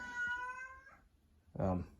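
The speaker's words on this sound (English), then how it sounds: "My cat doesn't like when I talk. He wants to join in." A house cat meows indoors, a brief harmonic cry near the start followed by a second, louder and more nasal call about a second and a half later, heard close by with no talk over it.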